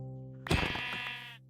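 A single drawn-out Minecraft sheep bleat, clear and close, with a steady electronic tone beneath it.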